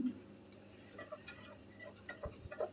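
A spoon scrapes and clinks against a pot as meat is stirred and fried in oil, with sparse, quiet taps and scrapes over a low sizzle.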